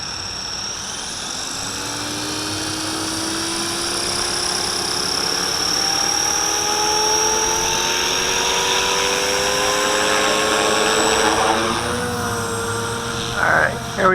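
A V450D01 RC helicopter hovers in high wind with a steady high-pitched rotor and motor whine whose pitch slowly rises and wavers, with wind buffeting and a few brief bumps near the end.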